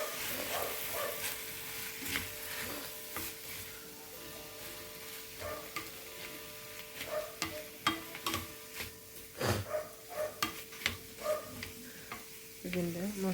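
Potatoes boiled with turmeric are stirred into a sizzling vegetable biriyani masala in a pan, with steady frying hiss under repeated scraping and clinking strokes of a spoon, no talking.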